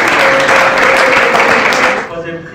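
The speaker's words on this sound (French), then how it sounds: "je vous invite à applaudir très chaleureusement" Audience applause for the winners of an internal eloquence contest final at Valenciennes Football Club, a dense, steady wash of many hands clapping close and loud, fading away toward the end.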